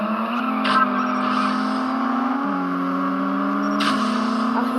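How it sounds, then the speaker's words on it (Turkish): A steady car engine drones at high revs with brief tire squeals in the CSR Racing video game, the whine shifting pitch a couple of times, with no talking. "Sesini de açayım arabanın sesini de duyuyorum."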